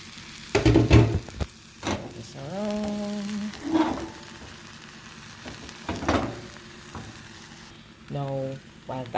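Eggs sizzle in a pan for a pak choy omelette, a moderate frying hiss with intermittent stirring clatter and brief voice sounds over it.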